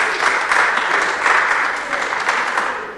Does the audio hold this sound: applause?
yes